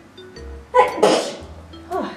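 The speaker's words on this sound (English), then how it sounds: "I'm gonna sneeze." A single sharp sneeze from a woman unboxing a pom pom craft kit, loud and close, rising abruptly mid-clip amid her brief talk before and after.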